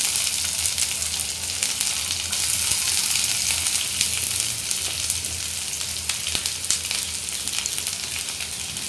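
Curry leaves and chopped onion sizzle steadily in hot oil while bitter gourd stir-fry is cooked, a continuous close, even crackle with small pops throughout.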